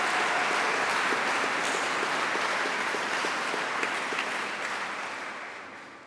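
A big round of audience applause for friends and family at a Greenwich and Rochester graduation ceremony, a dense sustained wash of many hands that fades slightly toward the end.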